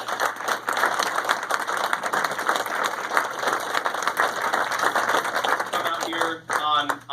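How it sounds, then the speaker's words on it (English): Sustained audience applause at a county award ceremony honoring a former fire chief, steady and dense for several seconds before breaking up near the end as a voice begins to speak. "And they deserve a big round of applause."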